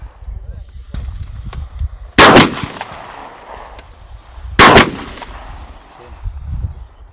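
Two loud, sharp shotgun blasts about two and a half seconds apart at an outdoor shooting range's running boar target, each with a brief echoing tail, over low background rumble and faint activity.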